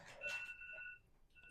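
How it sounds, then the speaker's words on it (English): A telephone rings in a panel discussion room, thin and faint with a short tonal burst, a pause, then another ring starting. "besides the phone ringing?"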